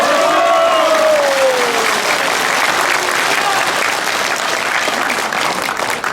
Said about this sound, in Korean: 한 번 더 박수 쳐주세요.